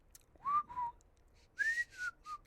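A person whistles the theme from The Great Escape in two short phrases of sliding notes, close and clear against near silence.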